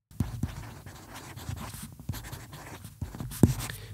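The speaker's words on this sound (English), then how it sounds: "It sounds like writing on paper." Stylus scratching across a reMarkable paper tablet, close and quiet, with short irregular strokes and soft taps in a still room.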